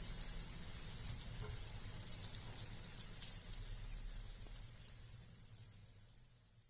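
Unniyappam batter sizzles as it fries in the cups of an appam pan, Kannur style and made without banana: a steady, soft crackling hiss that thins slightly toward the end, with no voices.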